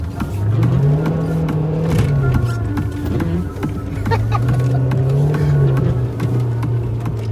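Car engine revving steadily and loudly, its pitch rising and falling in two long swells as the throttle is held open, with faint background noise.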